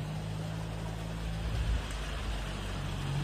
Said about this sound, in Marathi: बघा कसला डेंजर पाऊस चालू झाला